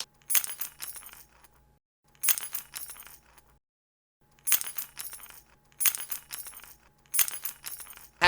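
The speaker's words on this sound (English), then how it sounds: "This is the sound of keys jingling." A set of keys jingles in five separate bursts of bright metallic clinking, each lasting about a second with short silent gaps between, close and fairly loud with no talk.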